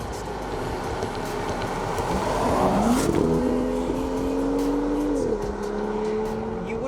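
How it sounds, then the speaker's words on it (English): Steady road and engine noise fills the cabin of a BMW M2 while driving, with a rising and shifting engine tone partway through. "there's a lot more noise in this car. It's a lot more road noise."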